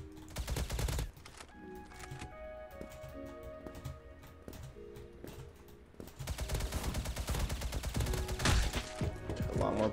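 Gunfire in the first-person shooter Krunker comes in dense rapid bursts at the start and again in the second half, separated by sparser single shots, loud and close with game music tones in between.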